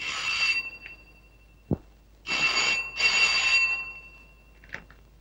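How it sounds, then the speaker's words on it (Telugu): A telephone bell rings in bursts within a dramatic Telugu film scene, each burst bright and trilling with short pauses between, loud and close, with a sharp thud in the middle and no talk over it. "ఫోన్ ఎత్తు"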